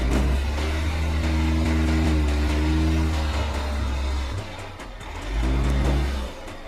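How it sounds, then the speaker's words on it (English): 2020 SUV such as an Audi Q8, BMW X5 or Mercedes GLE climbing over an off-road obstacle, its engine revving hard and loud, easing off briefly, then revving again before dropping away. "The car rolls back again and passes the obstacle by the easier trajectory."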